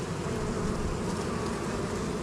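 Freshly hatched honeybees and a drone crowding a brood frame lifted from a hive before almond pollination, giving off a dense, continuous buzzing hum close by with no pauses.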